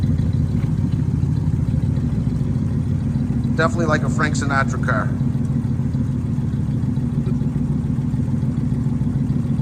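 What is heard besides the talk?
V8 430 muscle car engine running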